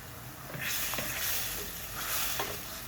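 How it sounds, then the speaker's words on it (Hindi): Coriander, turmeric and cumin powder masala with salt frying in a pan, a soft steady sizzle with a few stirring scrapes, fairly quiet and close, no speech. "अब मसाले को फ्राई करेंगे। मसाले को खूब फ्राई करेंगे"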